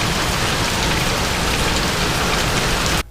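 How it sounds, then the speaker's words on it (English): Heavy tropical storm rain pours down in a dense, steady roar close by, with no voices, before cutting off abruptly at the very end. "tropical storm's coming through. Very ugly, rainy, nasty outside."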